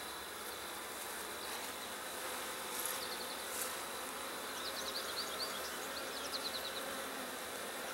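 Honey bees hum around an open, drone-laying hive during requeening, a steady faint drone with scattered individual buzzes passing close, no voices.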